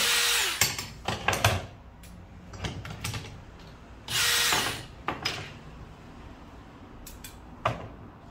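A power drill loosens screws on a Ryan Solo stroller, giving several short whirring bursts of a few seconds each with pauses and light handling clatter between them.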